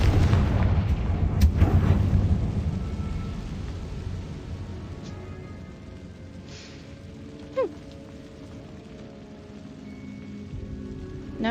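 A Confringo fire spell explodes in Hogwarts Legacy, a loud booming burst up front that rolls off into a rumbling tail and dies down to a quiet ambient hum.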